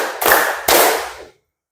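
Two loud, close handclaps in a group clapping game, roughly half a second apart, each ringing out briefly before silence.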